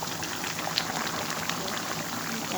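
Water boiling in a pan while fish curry cooks makes a steady close bubbling and gentle sputter throughout, with no talk.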